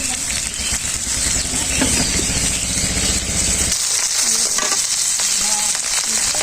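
Tilapia fish frying in hot oil in a pan gives a loud, dense, continuous sizzle up close, with light scraping and rattling from stirring mixed in.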